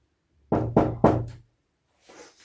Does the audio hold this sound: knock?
yes